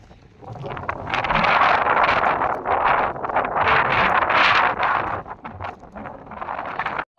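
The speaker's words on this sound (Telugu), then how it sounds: "సౌండ్ అయితే ఎక్కువగా వస్తుందండి. సౌండ్ అయితే గాలిది." Loud, rough wind buffeting the microphone while moving through green village fields, a constant roaring rush with gusty surges, dropping out abruptly near the end.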